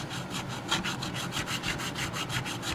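A crowning file scrapes back and forth over the guitar frets of a Mexican Stratocaster, rhythmic rasping strokes about three per second, close and steady, with no voices.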